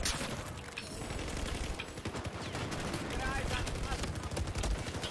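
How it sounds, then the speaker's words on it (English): Dense gunfire from a Battlefield 4 match rattles through continuous rapid bursts, loud and close, with a lift area being rushed; a player's voice talks over the shooting. "I shot him so many times in the body"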